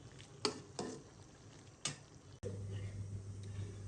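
Beef tripe being stirred and sautéed in a pot on a home stove, with a few sharp scrapes of the spoon against the pot over a low, steady sizzle that swells louder for the second half.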